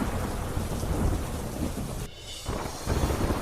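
Heavy overnight downpour in Surendranagar, Gujarat, a dense, steady roar of rain with a rumble of thunder and a brief dip in intensity partway through.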